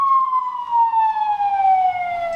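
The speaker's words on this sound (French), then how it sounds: "le son d'une ambulance américaine" A wailing American ambulance siren tone sweeps steadily downward across the whole clip, loud and continuous, with a faint rumble of traffic underneath, from a siren fitted to a 1968 Cadillac Ecto-1 replica.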